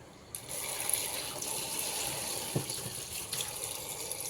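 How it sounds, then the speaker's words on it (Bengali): Water is poured into a pot of cut chicken pieces with garlic paste and gram flour for biryani, a soft, steady splashing hiss heard fairly faint and close, without talk. "আর মুরগিটার মধ্যে এখন পানি দিব।"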